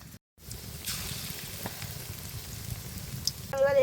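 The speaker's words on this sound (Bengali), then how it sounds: "এবার মাছের ডিম ভাজার জন্য কড়াইতে তেল দিয়ে দিব।" Small fish roe fritters sizzle and crackle in hot oil in a wok, a steady close frying hiss after a brief silent gap, with a short clatter near the end.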